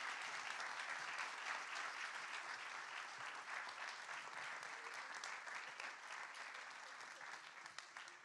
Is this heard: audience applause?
yes